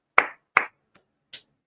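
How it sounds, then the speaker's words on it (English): A few sharp claps, two strong ones then two fainter, spaced unevenly with silence between, more like scattered hand claps than full applause. "Please, a round of applause"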